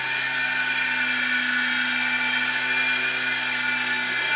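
Estes C05502 3.5-channel RC helicopter rotor whirring steadily at close range, a continuous high-pitched buzzing whine with stable tonal hum and no pauses, loud throughout without talk.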